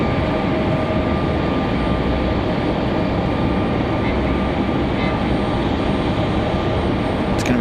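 A Frontier Airbus A321 arriving at Raleigh-Durham airport, a steady broadband jet roar that holds loud and constant throughout, with no clear rise or fade.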